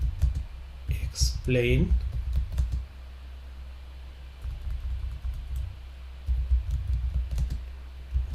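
Quick key clicks on a computer keyboard as a question is typed into a ChatGPT browser window, coming in short uneven bursts with pauses, while someone talks over the first part.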